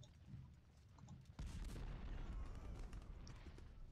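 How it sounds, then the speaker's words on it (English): Cannon artillery fires in a Civil War strategy game, a sudden heavy boom followed by sustained rumbling blasts and crackling bursts, loud and layered. "We'll have our cannons attack them from far range."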